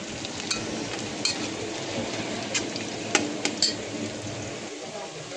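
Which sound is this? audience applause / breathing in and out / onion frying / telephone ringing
onion frying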